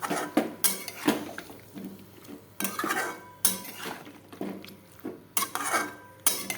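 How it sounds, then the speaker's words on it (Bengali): Ginger-onion-garlic paste and spices being stirred and sautéed in a pan, with repeated scraping and clinking of a metal spatula against the pan in bursts, close up with no talk. "এখন এটাকে ভালো করে কষাবো।"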